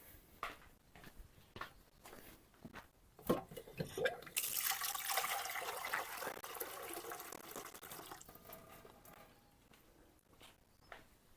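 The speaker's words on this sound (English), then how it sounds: "Water." Tap water runs while a knife is sharpened on a Japanese whetstone, a rushing splash that swells after a few seconds and holds steady, preceded by scattered knocks and handling sounds.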